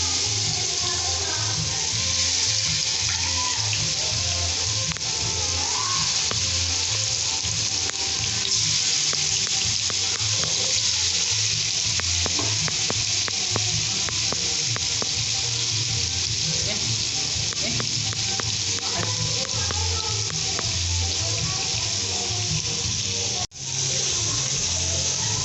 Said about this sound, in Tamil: இப்போ நாங்கள் வந்து மீன் பொரிக்க போகிறோம்